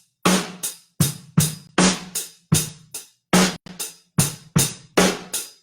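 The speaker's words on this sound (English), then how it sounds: "The first time I'm just going to do my hands like a basic fill." A drum fill is played with hands only, sharp close hits arriving in quick repeated groups of two, crisp and loud with brief decays and no talking.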